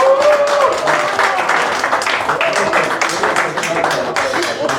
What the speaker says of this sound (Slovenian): En aplavz.